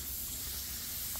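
SATA spray gun (SATAjet) blowing air at about 32 PSI, a steady, close broadband hiss that stays level throughout with no talk.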